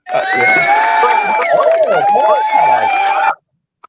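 A short canned crowd-cheering effect on a podcast, a dense burst of shouting and whooping voices that holds loud for about three seconds and then cuts off sharply.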